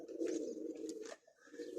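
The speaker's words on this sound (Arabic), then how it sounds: "قلت خلنا نجيب لك بدال هنا طيور" Pigeons coo steadily in low, throaty rolling phrases, close and fairly loud, with a short pause near the end before the cooing resumes; faint higher bird calls flicker above.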